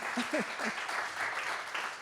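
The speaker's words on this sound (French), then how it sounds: "On peut largement applaudir." Applause from a general assembly audience, a dense steady clatter of many hands filling the room, with a few voices briefly mixed in at the start.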